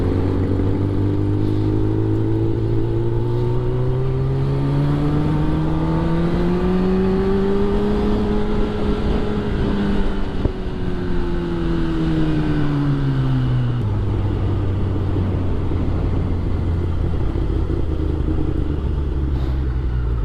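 Kawasaki ZX10R motorcycle with an Akrapovic exhaust, revving steadily, the engine pitch sweeping up, holding, then dropping back to a low rumble, loud and close throughout with no talk.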